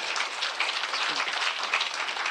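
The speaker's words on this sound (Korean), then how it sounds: "인사 박수 좀 한번 크게 좀 부탁드리겠습니다" A crowd claps in a brief burst of applause at a public event, fairly close and steady for a couple of seconds, with a faint voice underneath.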